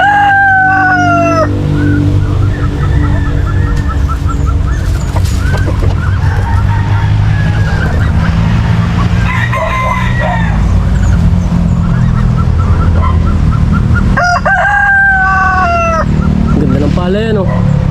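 Chickens and roosters on a free-range farm crow and cluck repeatedly, some calls near and loud, others farther off, over a steady rumbling background with someone talking throughout.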